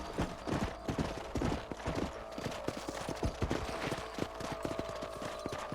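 Horse hooves clip-clop in the Red Dead Redemption video game, a steady close trotting rhythm of crisp hoof strikes that runs throughout over soft ambient game sound.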